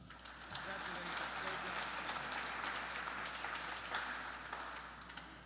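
A graduation audience gives a continuous round of applause for graduates, a soft, even wash of many hands clapping that holds steady from start to finish at a moderate distance.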